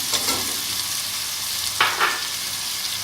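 Steady sizzling of a hot pan of frying spice paste, with a couple of sharper clatters as dried plums and other ingredients are tipped in and stirred, close and fairly loud.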